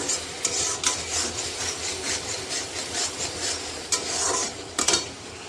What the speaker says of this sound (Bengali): আমার মাছের ঝোল হচ্ছে গ্রেভিটা অলরেডি আমি করছি